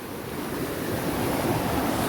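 Steady rushing water fills the clip, a broad continuous roar of a monsoon-swollen river flowing strongly in Kokan, Maharashtra, with some wind buffeting the microphone.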